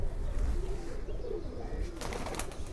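A pair of Ferozpuri Faqeergull mix-breed pigeons at a home loft, softly cooing in low, rolling murmurs over steady background hum, with a few faint chirps near the end.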